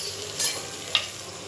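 Spices for a chana dal curry crackle and sizzle as they temper in hot oil in a pan, with a soft steady fry and a couple of brief sharp spits and stirring clinks.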